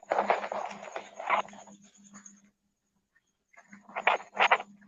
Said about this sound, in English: We can hear the crickets where you are